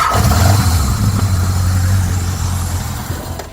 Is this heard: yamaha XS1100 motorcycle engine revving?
yes